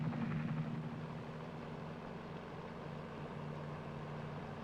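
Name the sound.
helicopter landing troops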